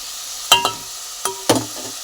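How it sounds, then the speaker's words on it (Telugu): Raw prawns dropped into hot oil give a few sharp crackling bursts with short sizzling tails, close and fairly loud, separated by brief quiet gaps. "రొయ్యలు ముందు నూనెలో వేపాలండి, లేకపోతే నీటి వాసన వస్తుంది"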